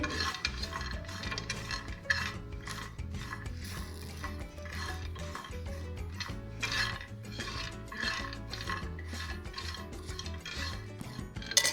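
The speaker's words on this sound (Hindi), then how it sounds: "इसी के साथ हम इसमें फ्लैक्स सीड डालेंगे और इनको भी 1 से 2 मिनट के लिए इसमें घुमाएंगे" Flax seeds are stirred while dry roasting in a pan, a steady scraping and rattling with repeated rhythmic strokes throughout, fairly close and without talk.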